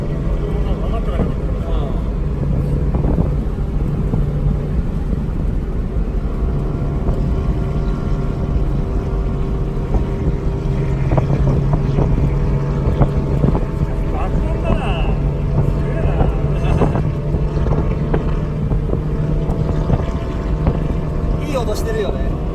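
A 1980 Yamaha XS650 motorcycle engine running steadily while riding through Kananaskis, Canada, a constant low drone with wind rush throughout, while people talk over it.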